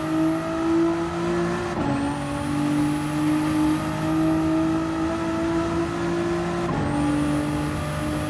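Sim racing game car engine under full throttle, a steady loud high-pitched drone that dips sharply twice as the driver brakes and shifts, then climbs back up as the throttle reopens, with no talking.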